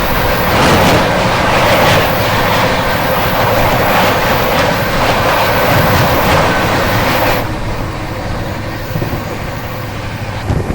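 Swatantrata Senani Superfast Express rushing past at high speed: a loud, continuous roar of wheels and rails with rhythmic clatter for about seven seconds, then dropping to a quieter rumble as the train passes.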